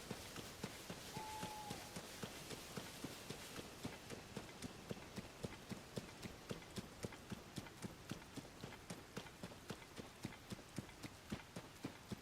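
Horse hooves gallop in Zelda: Tears of the Kingdom, a fast, even clip-clop of sharp beats repeating steadily from start to end at close range, with no voices.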